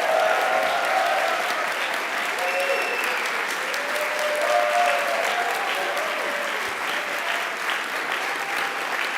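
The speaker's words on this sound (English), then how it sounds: "Please, please, a warm round of applause for the new members of the Executive Committee." A large assembly audience claps steadily at a general assembly, welcoming newly elected Executive Committee members, with sustained, dense applause filling the room throughout and no speech over it.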